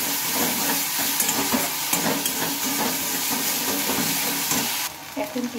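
A ground paste of ginger, cumin and chili frying in a pan, a loud steady sizzle and hiss with stirring scrapes, close up; the sizzle drops suddenly near the end.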